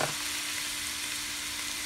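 Ground pork giniling frying in a pan with salt and pepper, giving a steady, close hiss and sizzle with a faint low hum beneath and no voices.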